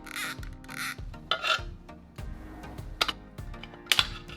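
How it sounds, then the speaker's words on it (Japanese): A circlip is worked off a wheel-knuckle bearing with a clamp on a Suzuki DA64V: close, quiet scraping and clicking in irregular bursts, with a few sharp metallic snaps. "プレス機にかける前にサークリップを外していきます"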